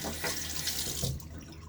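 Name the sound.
water running from tap to rinse razor while shaving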